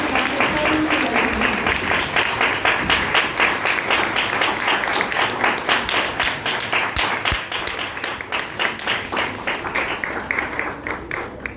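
Sustained applause from a church congregation fills the whole stretch, dense rapid clapping at steady loudness with faint voices underneath.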